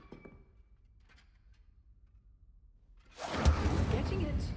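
A fire spell cast in the Hogwarts Legacy video game, a sudden loud burst of flame that roars on steadily after a quiet stretch.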